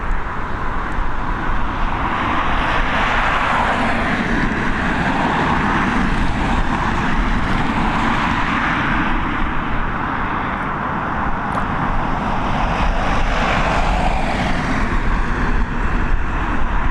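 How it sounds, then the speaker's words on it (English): A Ryanair Boeing 737 arriving at Dublin Airport roars loudly and continuously, close at hand, a broad, even jet noise with no pause and no voices. "another Boeing 737 operated by Ryanair coming into Dublin"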